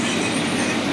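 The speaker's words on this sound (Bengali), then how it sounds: "এক্সপ্রেসটা ঢুকছে, এটা new Delhi, Howrah new Delhi express." The Howrah New Delhi Express rolls into Howrah station as a loud, steady rumble of rail wagons and wheels, close by and continuous, with no speech over it.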